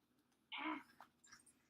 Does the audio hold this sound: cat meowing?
yes